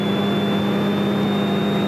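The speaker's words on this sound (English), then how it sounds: "put the engine up to 1800 RPM" Steady, loud droning hum of a light training airplane's engine held at 1800 RPM during a pre-flight run-up, continuous and even throughout with no voices.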